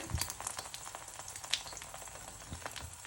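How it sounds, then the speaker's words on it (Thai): A Thai omelette sizzles in hot oil, a steady crackling fry dotted with sharp pops and spits, close and moderately quiet with no talk over it. "ทอดไข่เจียวหอมมากโหลงปุ๊บหอมปั๊บเลย"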